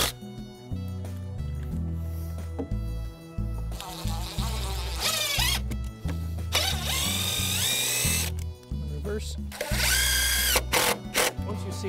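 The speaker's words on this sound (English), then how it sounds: "we want to burn that screw before we drive it so it doesn't split" A power drill drives a screw into a wooden deck railing baluster in several sharp, whining bursts separated by short pauses, loud and close.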